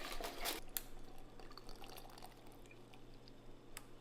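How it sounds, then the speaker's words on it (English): A berry mocktail strained from a shaker into a glass: a quiet pour with soft trickling and a few drips and clinks near the start, then faint dripping, with no talk. "You're going to strain that into your glass."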